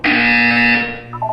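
A buzzer in the video game Portal 2 gives one loud, steady electronic tone held for almost a second, then a shorter, fainter pair of higher tones.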